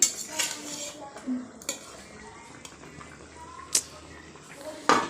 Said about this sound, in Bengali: আমার ঝোলটা ফুটে গিয়েছে, আমি এবার আলুগুলো দিয়ে দিচ্ছি